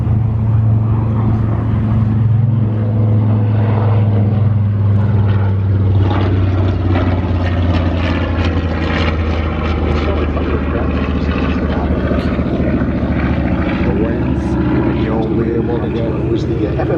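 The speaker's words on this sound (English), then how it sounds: "here comes Tim Savage and the TBM Avenger" A TBM Avenger warbird propeller plane flies over at a beach air show, its engine drone loud and continuous, swelling and shifting in pitch as it passes overhead.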